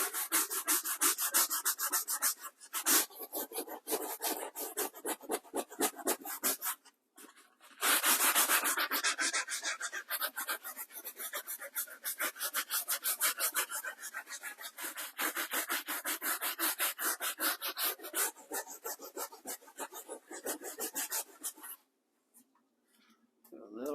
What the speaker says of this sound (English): So let's do some scrubbing on here.